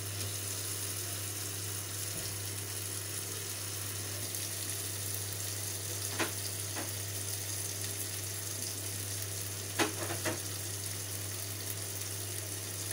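Tilapia frying in hot oil gives a steady, soft hiss broken by a few faint crackles and pops, with a low constant hum underneath and no voices.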